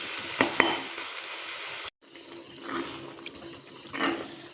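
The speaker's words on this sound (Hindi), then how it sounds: "मैं भाटा ला डाल के अच्छा से मिक्स कर दे हूँ" Boiled brinjal being stirred into a bharta masala of turmeric, chilli and coriander in a pan, giving soft scraping and sizzling swishes with a few sharp clacks of the spoon, steady and close, with no talking.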